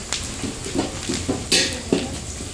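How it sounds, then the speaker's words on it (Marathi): Onion and curry leaves frying in oil for a tempering while making village-style besan, with soft sizzling and intermittent stirring and utensil clinks close by, no talking. "कांदा कढीपत्ता आयटळून घेते त्याला फोडणी द्यायची असल्यामुळं"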